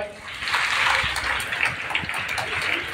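A school audience claps loudly, a dense, continuous wash of many hands that holds steady and close for the whole stretch.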